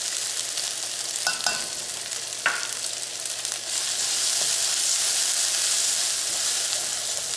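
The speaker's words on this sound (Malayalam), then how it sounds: "മഞ്ഞൾപ്പൊടിയും എണ്ണയിൽ വരുന്നൊന്ന് മുരിഞ്ഞിട്ടുണ്ട്" Turmeric powder fries in oil with ginger-garlic paste for a Kerala potato and brinjal curry, giving a continuous close sizzle with a few sharp spoon clinks early on, then a fuller hiss toward the end.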